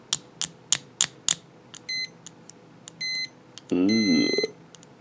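An HP 973A multimeter in continuity mode sounds with probes tapping. A few sharp clicks lead into short, clipped beeps, then a longer warbling, wavering tone near the end. The sound is close and clear, with no talk.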